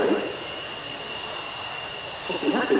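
A military jet taxiing at the RIAT 2024 airshow, a steady broad engine whine with a high tonal hum, moderately distant, with faint crowd or commentary murmur rising at the start and end.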